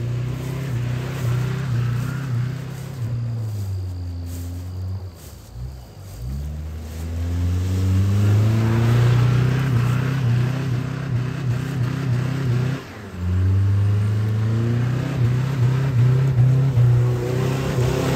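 A Nissan Altima spins reverse donuts, its engine revving hard in sustained, loud, rising and falling pulls, with two brief drops where the throttle lifts before it roars back up.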